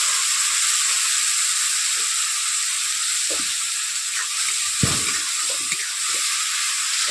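Bay leaves and ginger-garlic paste fry in a pan for a pangas fish dhoka curry, giving a steady, bright sizzle throughout with a few soft stirring knocks and no talking.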